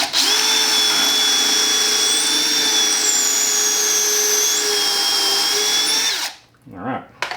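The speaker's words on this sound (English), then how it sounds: "we'll drill another one, again, back over this way because of the situation with this lumber" A power drill whines loudly and steadily into poor-quality lumber for about six seconds, then stops abruptly, followed by brief quieter handling sounds.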